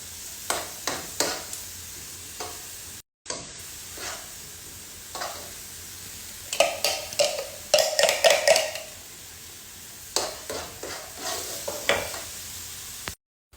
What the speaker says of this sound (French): J'ai haché mon oignon et l'ail. Et je viens l'ajouter. Et je fais dorer quelques minutes.